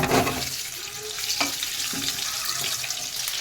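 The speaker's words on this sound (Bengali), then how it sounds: "তেল গরম হয়ে গেছে এবার ডিম কটা আমি ভেজে নেব" Eggs frying in hot mustard oil in a wok, a steady loud sizzle and crackle with a few spatula scrapes, close by and with no voices.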